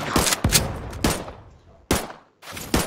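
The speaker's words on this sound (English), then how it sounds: "Explosion." Repeated loud bursts of blasts and gunfire in the Roblox Tower Defense Simulator video game, several sharp hits with decaying tails and brief gaps between them.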